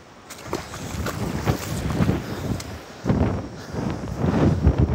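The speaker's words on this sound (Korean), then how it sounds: "저 파도가 장난 아닙니다" Typhoon Maysak surf rolls in at a flooded beach, a steady roar of heavy waves with broadband wash and surges breaking close by, swelling again toward the end with light wind rumble underneath.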